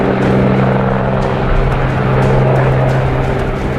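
A helicopter flies over a disaster-hit mountain valley, its engine and rotor making a loud steady drone with a low hum, heard close and continuous without any talk.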